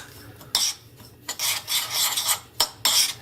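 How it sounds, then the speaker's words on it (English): Coconut flakes and a third cup of sugar being mixed for getuk, the Javanese cassava dessert, in quick, gritty scraping strokes repeated at an uneven pace, close and loud, with no talking. "To the coconut flakes, I'm going to add about a 1/3 cup of sugar. We're gonna give that a quick mix."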